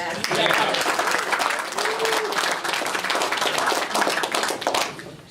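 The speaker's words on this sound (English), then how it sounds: "Everybody give him a second round of applause for all the work that he does." Audience at a non-sports trading card show artists panel applauding, sustained dense clapping from a crowd in an indoor hall for about five seconds, steady and loud before tapering off at the end.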